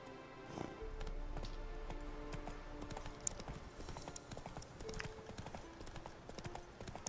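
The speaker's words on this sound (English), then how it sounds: "We're gonna whistle for the horse, and then we're gonna ride." Hooves of a horse in the video game Witcher 3: Blood and Wine clip-clop in a quick, steady rhythm, quiet and fairly close, continuing with no talk over them.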